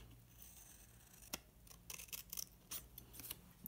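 Scissors snip through printed paper for a ribbon and lace holder in short, close, crisp cuts, spaced irregularly and growing more frequent toward the end, with no talking.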